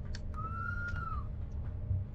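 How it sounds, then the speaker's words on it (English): A train whistle in the Bernina Line simulator, from an RhB 8/12 Allegra meter-gauge electric unit on a Swiss mountain route: one sustained, steady whistle tone lasting about a second, clearly above a constant low rumble of the running train. "Sound the whistle"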